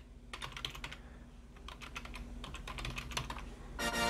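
Rapid keystrokes on a computer keyboard while a default Raspberry Pi password is entered on a Pi-Star hotspot setup, a steady run of close, crisp clicks with short pauses and a soft hum underneath.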